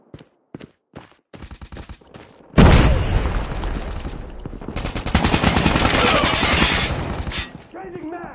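Call of Duty Mobile grenade blast: a few sharp shots, then a heavy boom followed by sustained rapid gunfire and bursts, loud and dense.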